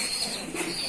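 A fancy pigeon coos softly in a brief one-second burst, a low steady murmur with no talking over it.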